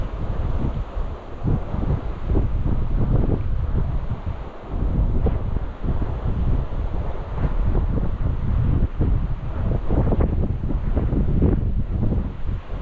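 Wind buffets the microphone outdoors beside the Peace River during gold panning, a steady heavy rumble in gusts with faint water and rustling beneath, no talk.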